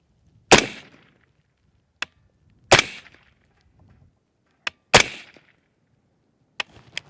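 Rifle shots fired from a tripod: three loud, sharp close reports spaced about two seconds apart, each with a short echoing tail, interleaved with quieter metallic clicks of the action.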